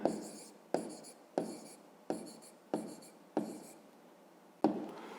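A pen writes by hand on paper during a fifth-grade maths exercise, seven short scratchy strokes, each starting sharply and fading, in a quiet close room.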